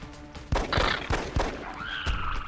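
A pistol fired in the video game XCOM, with several sharp close shots spaced about half a second apart and a brief tonal game effect near the end.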